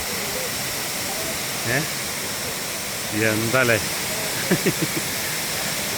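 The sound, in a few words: waterfall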